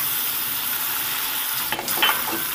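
Prawns fry lightly in hot oil with a constant loud sizzle, broken near the end by a couple of brief scraping stirs, and no voices.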